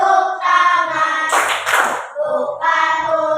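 Hand clapping during a children's action song in an Islamic religious education classroom lesson: a short burst of claps breaks in midway between stretches of sung, musical melody.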